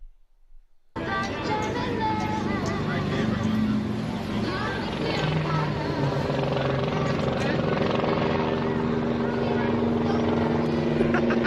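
A helicopter flying overhead, its loud, steady rotor and engine roar starting abruptly and droning on unbroken, fairly close, with mechanical tonal whine layered through the noise.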